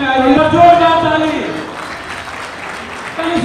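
An audience at a community association award ceremony claps at moderate volume, fading out gradually, while a voice talks over the start and another comes in near the end.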